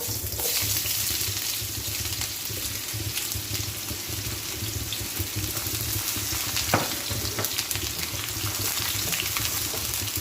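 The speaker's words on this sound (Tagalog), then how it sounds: "start na po ako mag-gisa. Yan. Una natin ilunod yung ating sibuyas." Onions sautéing in hot oil in a pan, a steady close sizzle and crackle with occasional stirring clicks, continuous and fairly loud.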